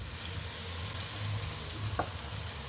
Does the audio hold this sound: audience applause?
no